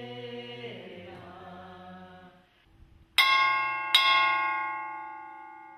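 An old railway rail on Makatea struck as a makeshift church bell: two sharp metallic clangs about a second apart, each ringing on with a long bright decay after a quieter stretch of tonal sound.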